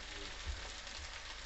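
Okra and onions frying in hot oil, a steady soft sizzle with faint stirring bumps, close and alone.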